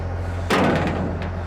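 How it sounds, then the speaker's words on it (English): A single door slams shut with a solid thud and a short rattle, close by in a fairly quiet space with a low steady hum behind it. "Let me close the door for you"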